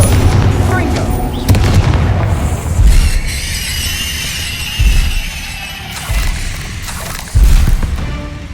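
Confringo fire-blast spells from Hogwarts Legacy in a troll fight: four loud booming bursts land at intervals over a shrill squealing, fizzing magical hiss that runs through the stretch.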